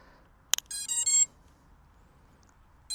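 Seeker 5 device giving a short sharp beep followed by a quick run of three higher electronic tones, fairly soft in a quiet room.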